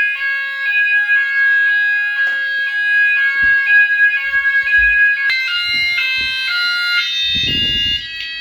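A house fire alarm system sounds during a test. Loud electronic tones pulse and step in repeated patterns, then shift into a higher, denser alarm pattern partway through, with faint handling noises underneath.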